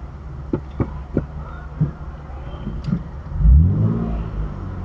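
A car engine in traffic while the clutch is worked and the car edges forward at walking pace, a few soft thumps and then a low rising rumble as the engine takes up, fairly close.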